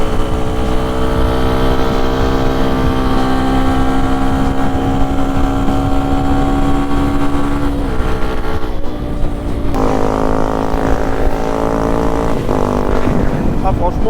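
A Mash Supermoto 125 WRX fitted with an Arrow exhaust revs steadily throughout, its engine note rising and dipping with throttle changes amid wind noise.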